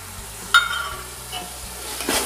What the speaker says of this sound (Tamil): பட்டை கிராம் ஏலக்காய் பொடி போட்டாச்சு. நல்லா வணக்கி விடுங்க. நல்லா ஃப்ரை ஆகணும்.